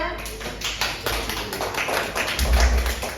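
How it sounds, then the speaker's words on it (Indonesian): Classroom applause for a student group during a microteaching session: a brief burst of scattered hand clapping from a small group, fairly close, mixed with voices and room noise. "Oke, bagi aplaus untuk kelompok 2."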